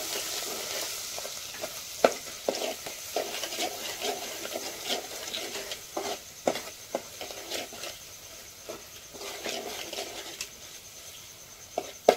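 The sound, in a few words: crab curry gravy being stirred in a pan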